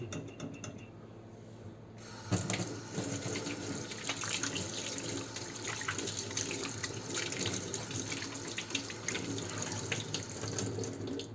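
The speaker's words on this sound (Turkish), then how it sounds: "şimdi arkadaşlar önce elim bir yıkayacağım" Hands washed under a running kitchen tap in a home kitchen: a steady, loud rush of water splashing into the sink, with small clinks and hand movements in the flow, beginning after a short quieter moment and continuing without talk.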